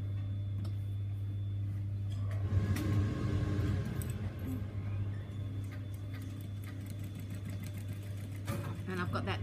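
A domestic sewing machine stitches a seam in fabric, a steady rapid mechanical whir that starts after a pause and runs on, with someone talking over it nearby.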